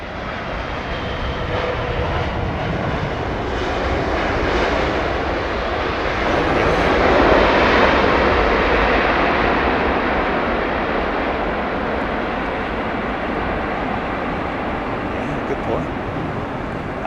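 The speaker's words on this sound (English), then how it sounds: "this is Aero Mexico's Dreamliner. Should make a bit of noise." An Aeromexico Boeing Dreamliner jet roars at Heathrow, a broad, steady rumble that swells to a peak midway and slowly eases off, with voices talking over it.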